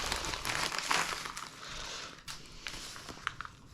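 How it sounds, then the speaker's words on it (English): Package being torn open, close rustling and crinkling of plastic wrapping with a few sharper rips and crackles, irregular and moderately quiet. "Let's rip it open."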